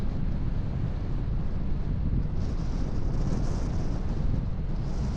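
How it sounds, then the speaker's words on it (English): Strong wind gusts buffet the microphone on an exposed grey hill, a continuous loud, roaring rush with no pauses and no voices. "Very breezy."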